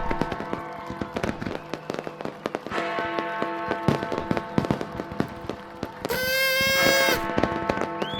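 New Year fireworks crack and pop in a dense, continuous volley of sharp bursts, with a brief whistling rocket-like screech near the end; no talking.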